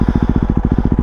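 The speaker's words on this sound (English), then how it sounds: "Yeah, aftermarket exhaust," Idling KTM RC390 motorcycle fitted with an aftermarket exhaust, a steady, rapid low throb of regular pulses close up, loud with no talk.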